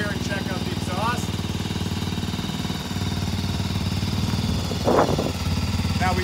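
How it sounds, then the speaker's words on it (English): A fuel-injected Genuine G400C motorcycle engine idles steadily with a low, even putter, close by, while a person talks over it. "it's a fuel-injected bike, so it should fire right up"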